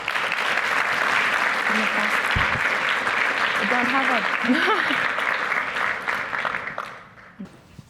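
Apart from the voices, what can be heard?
applause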